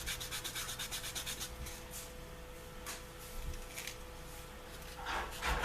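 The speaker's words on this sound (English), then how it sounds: "if I need to do a little bit of sanding in some spots" Short repeated rubbing strokes of sanding leather edges, quiet and close, with a brief pause mid-way before a louder scrape at the end.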